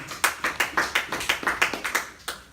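Rhythmic clapping at a French-language church service, steady hand claps in a regular beat roughly every quarter second, close and moderately loud with no voices over it.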